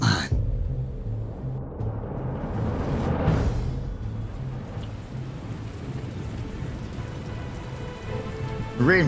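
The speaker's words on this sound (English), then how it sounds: "Rain proper is coming down, Gandhi." Rain pouring down in Batman: The Telltale Series, a steady heavy patter with a low rumble like distant thunder swelling in the middle, no talking.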